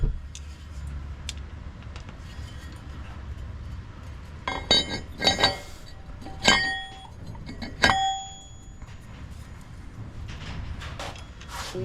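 Metal bolts clinking and clattering while a clutch goes into an Evo X: several sharp, bright clinks clustered in the middle, over a low garage hum.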